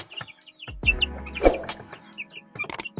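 Farm chicks, one of them recovering from fowl pox on its beak and comb, cluck and peep in short scattered calls close by, with a louder squawk midway and quick chirps near the end.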